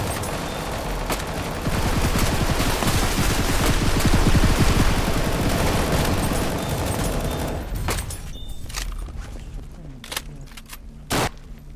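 Gunfire in a Roblox Squid Game shooter rattles in dense rapid bursts for several seconds, then thins out to a few sharp isolated shots, with light speech at times.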